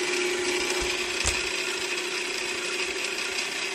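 A fly cutter taking a cut in metal on a milling machine, a steady loud machining whine with a constant tone and gritty noise, plus a brief knock partway through.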